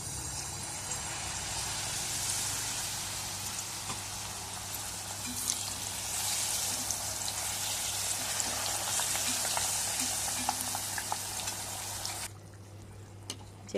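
Pitha frying in hot oil, a steady dense sizzle and crackle that runs close and loud for about twelve seconds before cutting away to a quieter background.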